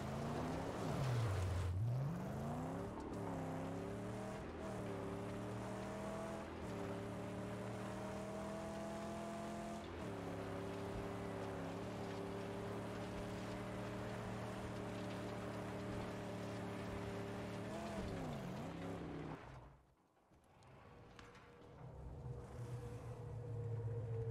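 A car engine drones while driving in the Mad Max video game, its pitch rising and dropping through several shifts. It cuts out briefly near the end and then returns more quietly.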